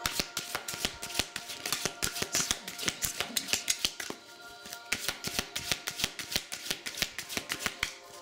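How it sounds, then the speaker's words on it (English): A deck of tarot cards is shuffled and cut by hand, a dense, rapid stream of crisp card flicks and slaps that stays close and steady throughout, with no talking. "Right now I'm shuffling into what feels right and cutting the cards of what feels right for me"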